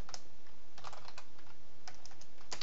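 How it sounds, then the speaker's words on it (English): Keys on a computer keyboard clatter in quick bursts of light, crisp taps with short pauses between them, close by in a quiet room. "My keyboard's acting all funky on me."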